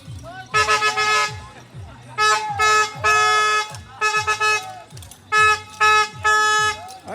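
A vehicle horn honks in about five loud bursts of uneven length at a linemen's rodeo of the Aklan electric cooperative, with voices shouting and cheering nearby between the blasts.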